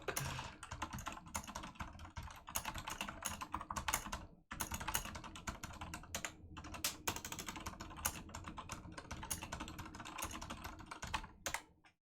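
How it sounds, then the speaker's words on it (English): Rapid, continuous typing on a computer keyboard, with dense close-up key clicks and brief pauses throughout while coding. "I hate typing the same word over and over."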